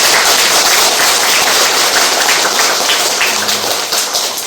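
A congregation at a Korean Won Buddhist dharma title conferral ceremony breaks into loud, dense, continuous applause that carries evenly through without talk.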